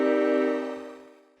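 Ambient synth pad run through a grain delay with high spray and pitch raised an octave, a bright shimmering chord that swells briefly and fades out over about a second and a half.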